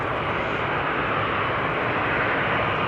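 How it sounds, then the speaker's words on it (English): Airplane approaching at Amsterdam Schiphol Airport near the Polderbaan runway, a loud, steady broadband engine roar that holds constant and fills the whole clip without talk. "The airplane's coming."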